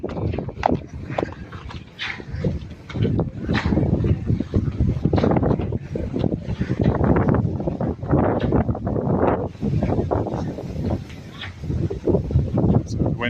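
Gusty wind roars steadily outdoors and flaps against large flags, a loud, continuous rushing with buffeting pulses throughout.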